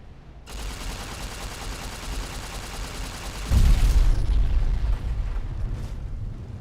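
Explosives detonate in Fallout New Vegas: a steady crackling rumble gives way to a sudden, heavy boom partway through, followed by a long, rolling, booming tail.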